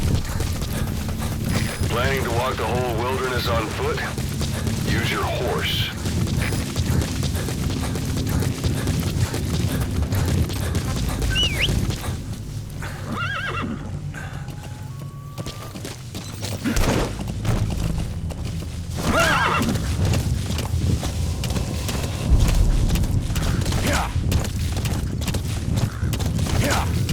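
Horse hooves clip-clopping in Metal Gear Solid V, a steady rhythmic trot across open wilderness with occasional deep booms, heard under a man's spoken dialogue throughout.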